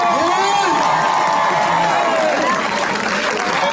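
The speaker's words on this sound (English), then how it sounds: "Let's give him a tremendous round of applause, Governor Phil Murphy." A large crowd at a public rally applauds and cheers for Governor Phil Murphy, loud sustained clapping mixed with whoops and shouted voices throughout.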